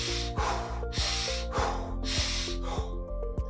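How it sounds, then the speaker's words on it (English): Quick, deep inhales drawn sharply through the nose in hyperventilation breathing, about a dozen rapid snorting breaths in steady rhythm, close and loud, over a constant low hum with no talk. "now this is something called hyperventilation breathing."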